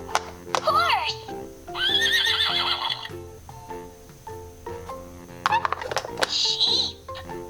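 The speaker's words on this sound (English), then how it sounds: "Horse." A horse neigh from a Laugh & Learn farm animal puzzle toy: two bright electronic whinnies, with someone talking and toy music or melody running underneath.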